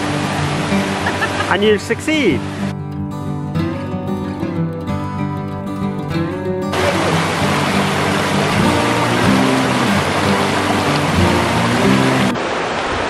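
A river flowing over stones at a stepping-stone crossing on a hike from Dulverton to Tarr Steps on Exmoor, giving a steady rushing wash throughout while people talk close by.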